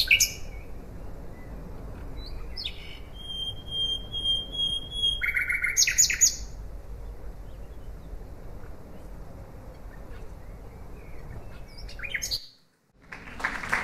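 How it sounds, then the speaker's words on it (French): Bright, varied common nightingale song rings out in clear phrases over a low background rumble, with pure whistled notes and rapid trills, then a brief pause. "Voilà l'oiseau, le rossignol Philomèle."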